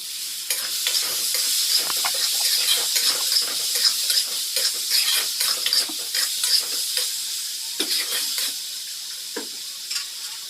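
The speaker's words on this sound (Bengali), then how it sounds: "অনবরত নেড়েচেড়ে ভাজি করার পর যখন দেখবেন সবজিটি পুরোপুরি সেদ্ধ হয়ে গেছে" Pumpkin pieces stirred and fried in a pan, a continuous close sizzle broken by frequent scraping strokes of a spatula throughout.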